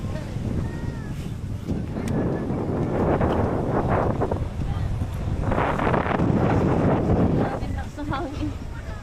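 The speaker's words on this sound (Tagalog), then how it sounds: "Lakas ng hangin." Strong wind roars and buffets the microphone continuously at Puka Beach, Boracay, with voices talking faintly underneath.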